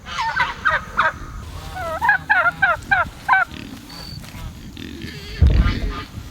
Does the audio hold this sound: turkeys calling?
yes